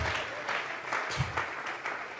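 Congregation applause fills a church service after a call to offer clapping to God, steady scattered clapping at moderate volume with no speech.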